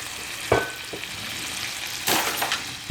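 Chicken, spinach and tomatoes sizzle in a pan as white wine goes in, bringing a sharp burst of hissing, with a few stirring scrapes and a louder surge toward the end.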